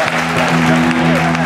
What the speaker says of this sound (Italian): ringraziamento ancora ad Alberto Giudici, un applauso per lui per favore.